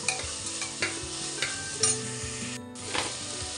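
Rice and mixed vegetables frying for veg pulao, with a steady sizzle in the pan and repeated scraping stirs of a spoon, close and loud, no voices.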